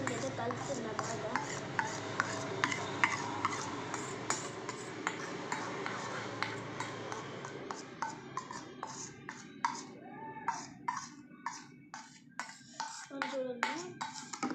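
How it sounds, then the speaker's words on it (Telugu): A spoon stirs a thickening powder mixture in a hot pan on the stove, producing steady rhythmic scraping and clinking strokes that repeat close up throughout. "మొత్తం అయితే కలుపుతున్నా బాగా"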